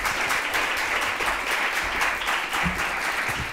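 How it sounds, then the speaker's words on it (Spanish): Audience applause closing a conference talk, a dense steady patter of many hands clapping throughout, fairly loud and sustained with no break. "Damos un gran aplauso a Marta por su intervención"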